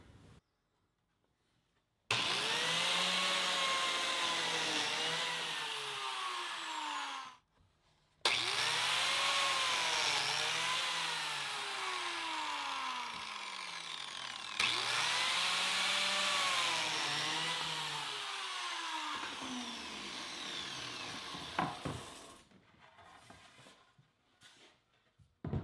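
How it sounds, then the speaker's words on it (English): Biscuit joiner cutting slots in wooden boards for an entryway table, three separate whining runs each a few seconds long, with the motor spinning up and then winding down between cuts, loud and close with no talk. "I'm using the biscuit joiner to join the boards together"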